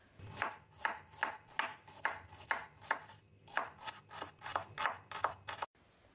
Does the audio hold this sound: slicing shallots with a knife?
yes